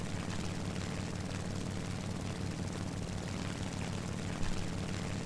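Steady propeller engine drone of an A6M5 Zero fighter climbing toward a cloud bank in the War Thunder flight game, loud and continuous throughout with no talk over it.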